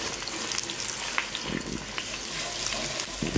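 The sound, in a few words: scrambling egg in hot oil in a pan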